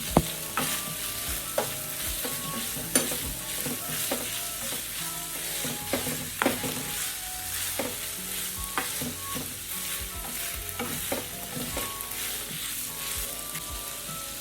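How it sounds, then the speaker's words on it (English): Boned fish filling with scotch bonnet pepper is stirred in a pot for a Nigerian fish pie, with a steady sizzle and repeated sharp spoon knocks and scrapes, close and without talking. "Stir everything together."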